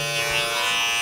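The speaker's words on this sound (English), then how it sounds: "Just slide your mini trimmer in that way and work up." An electric mini trimmer buzzes steadily as it cuts hair during a low skin fade, a close, continuous high-pitched whir with no talk.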